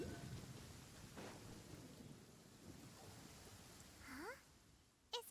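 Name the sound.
rain in a video game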